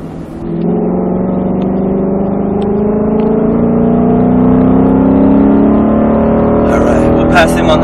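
A Mustang Shelby GT engine pulls hard on a track, a loud, close, rising drone climbing steadily in pitch before a brief shift near the end, with a voice talking over it.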